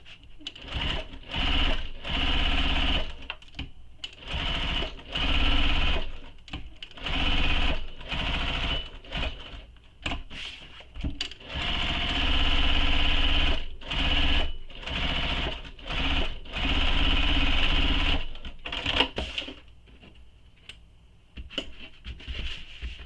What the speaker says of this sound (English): I'm going to use my regular stitch length, and I'm going to back stitch at start and stop